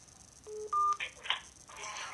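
A telephone number is dialed on a keypad: a few short, clear touch-tone beeps in quick succession, followed by faint voices.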